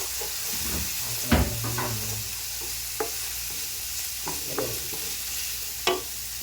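A spoon stirs tomatoes and ginger into a spicy pasta sauce in a hot pan, with a constant sizzling hiss broken by a few sharp spoon knocks against the pan at irregular intervals.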